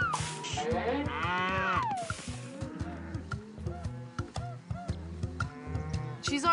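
Cartoon cows in the Putt-Putt children's video game moo several times in a row, each moo loud and close, over steady game background sounds.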